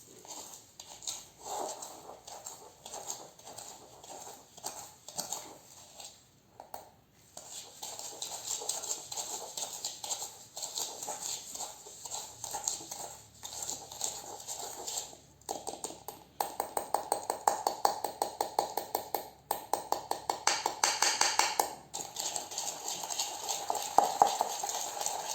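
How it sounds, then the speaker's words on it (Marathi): Sugar and roasted ground cardamom being whisked into shrikhand, a steady scraping, tapping rhythm of a whisk against a bowl that grows louder and faster in the later part, with no voices. "याच्यातल्या पूर्ण गुठळ्या काढेपर्यंत फेटून घ्यायचं आहे"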